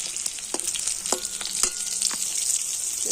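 Sliced pointed gourd sizzles steadily in oil in a pan, a continuous close hiss broken by a few soft clicks and scrapes as the pieces are stirred or lifted.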